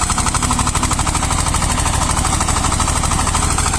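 A tractor with a rotary tiller working a field of white mustard, its engine and rotor churning in a loud, continuous rattling drone with rapid pulsing, close by and unbroken throughout.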